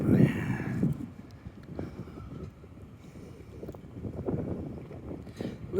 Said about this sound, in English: Little bit of wind up here